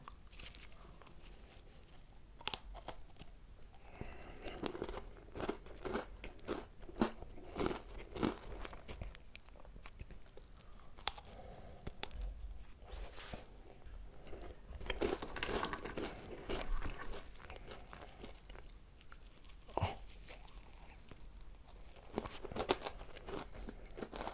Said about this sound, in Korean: 다섯 개 한 번에 먹기 챌린지요